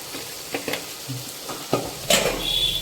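Prawns and taro stems cooking in a curry pan are stirred, giving a few scattered scraping strokes and clinks over a soft, steady sizzle, with a brighter burst of frying near the end; no voices.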